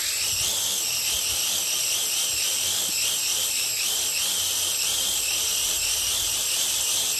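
Small JJRC H98 RC drone's motors spin steadily with a bright, high-pitched whine that wavers in a regular, fluctuating pattern, loud and close, with no talking.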